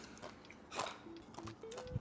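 Close, crisp crunching of crispy vegan bacon being bitten and chewed, a few brittle crackles in quick succession against quiet background.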